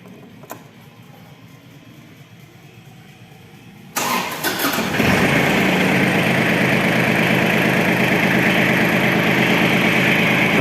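ISEKI SIAL223 Japanese mini tractor with snow blower attachment, quiet at first, then the engine cranks and catches with a loud burst and settles into a steady, close, even idle.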